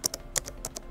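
Brisk keystrokes on a computer keyboard as a query is typed into a Google search bar, about six quick taps in under a second, close and clear with no voices.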